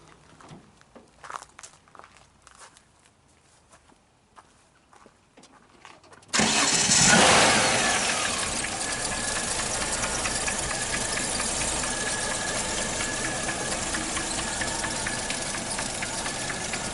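A 1969 Holden Kingswood's engine cranks and fires after several seconds of faint handling noises. It then settles into a loud, steady idle that carries on to the end.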